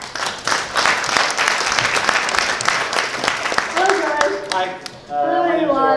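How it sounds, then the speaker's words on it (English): Audience applause fills a CES press conference hall for MSI, steady dense clapping that fades out near the end as a presenter begins speaking. "Give a round of applause."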